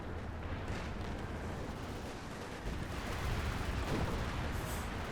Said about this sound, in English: Good artillery strike in this region.